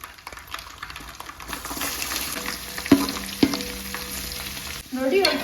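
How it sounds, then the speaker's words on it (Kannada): Garlic fries in hot oil with mustard seeds and cumin, giving a steady sizzle broken by a couple of sharp clinks and a louder stir near the end. "ಇವಾಗ ಇದ್ರೊಳಗಡೆ ಬೆಳ್ಳುಳ್ಳಿನ ಹಾಕೊಳ್ತೀವಿ."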